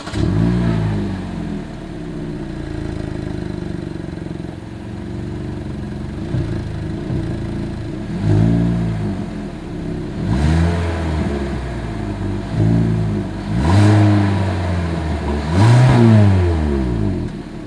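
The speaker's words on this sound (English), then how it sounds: "Here is that exhaust clip." The exhaust of a 2023 Hyundai Elantra, heard close as the engine idles and is then revved in several short bursts, each rising and falling, with the later blips growing louder.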